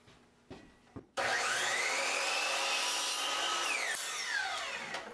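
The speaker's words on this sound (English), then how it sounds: "I'll just go ahead and cut the miter joints for the corners of this trim" A compound miter saw spins up after a couple of clicks and cuts miter joints in wood trim, a loud, close whining roar that holds steady through the cut and then starts to wind down.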